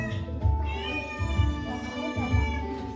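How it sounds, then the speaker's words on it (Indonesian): A cat meows in one long, steady, wavering call over low background rumble, near and moderately loud. "Itu suara kucingnya, meong-meong."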